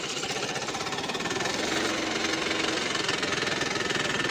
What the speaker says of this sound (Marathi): आता ट्रॅक्टर पुढं जातं का नाही काय माहिती